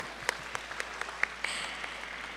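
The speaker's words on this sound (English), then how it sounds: "Let's give them a round of applause." At the Miss Teen Philippines 2019 grand coronation night, the audience gives sparse, scattered hand claps for the pageant semi-finalists. Individual sharp claps ring out separately rather than as a dense ovation.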